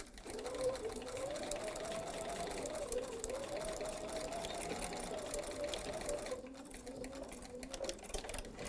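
A sewing machine stitches a seam on a patchwork pouch with a zipper, a steady close hum and rapid needle drone that runs continuously, then eases briefly near the end before resuming.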